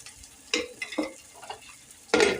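Oil hissing in a hot pan while making dosa for breakfast, quiet background crackle broken by a few short sizzling bursts, the loudest near the end.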